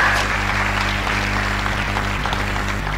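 Audience clapping at an English-speaking seminar, a continuous patter of hands over a strong low hum, steady and fairly loud for the full few seconds.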